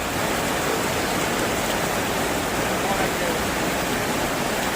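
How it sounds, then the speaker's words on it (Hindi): A seasonal stream at Muni Ki Reti in Rishikesh runs fast after heavy monsoon rain, a steady, loud, broadband rushing roar with no pauses. "मुनी की रेती इलाके में एक मौसमी नाले में पानी का बहाव अचानक काफी तेज हो गया"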